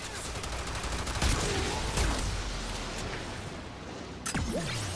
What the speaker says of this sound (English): I like to call it a plasma cannon